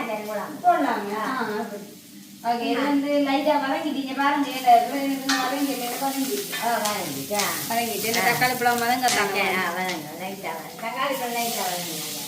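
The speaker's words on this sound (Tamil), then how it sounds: "தக்காளி பழம் லைட்டா வதங்க" Tomatoes sauté in a pan for a fish curry lunch, a soft sizzle with occasional stirring running under continuous conversation throughout.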